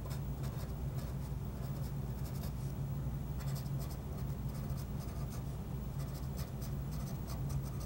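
Pen writing sample information onto a paper sample envelope for processed microfossil residue, a steady soft scratching that runs throughout over a low continuous room hum, with no talking.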